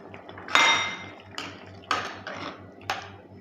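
Chopped medium carrot tipped into a vegetable stew pot, giving a few sharp metallic clinks and knocks of utensil against the pot, with a louder first hit and three or four spaced taps after it.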